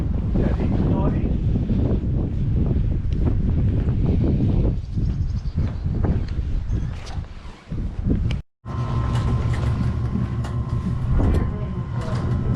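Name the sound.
wind blowing outdoors while fishing on a boat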